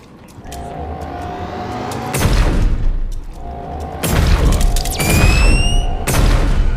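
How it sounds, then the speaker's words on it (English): Explosions boom in the Halloween update of the video game Animal Company. Several loud, sudden blasts hit at intervals, each with a rumbling tail, over a steady background of game sound. "chill with the explosion."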